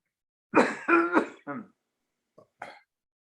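A few short, rough coughs and throat-clearing sounds in quick succession, close by, followed by a brief pause and one more small cough.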